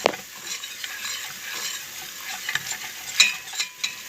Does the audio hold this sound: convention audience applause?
no